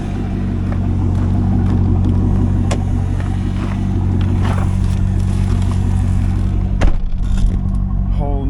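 A 1999 Chevrolet Corvette C5 LS1 V8 rumbles steadily at idle and low revs while driving, with a deep continuous drone, a brief louder revving burst near the end, and faint talk underneath.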